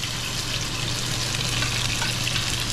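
Onion fries with karela (bitter gourd) in a pan over high heat, a loud, dense, unbroken sizzle and crackle heard close up without any talking.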